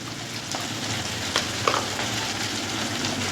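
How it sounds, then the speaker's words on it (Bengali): Bitter gourd fries in a pan with mustard and poppy seed paste, giving a steady, crackling sizzle throughout, broken by a few louder pops and stirring sounds. "এই তো আমার উচ্ছেগুলো ভাজা হয়ে গেছে, লাল লাল করে আমি ভেজে নিয়েছি"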